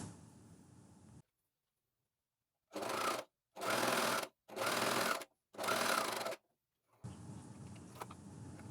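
A Juki coverstitch sewing machine runs in four short, even bursts of rapid stitching through all the fabric layers, separated by brief silences, with quiet room noise before and after.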